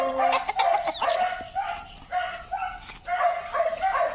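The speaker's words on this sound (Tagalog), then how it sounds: "Manok muna tayo. So ayan, manok." Chickens cluck and squawk at close range in busy overlapping bursts, with sharp yipping barks from a dog mixed in, on a farm in Laguna, Philippines.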